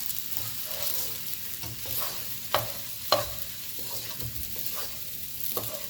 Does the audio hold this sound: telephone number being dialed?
no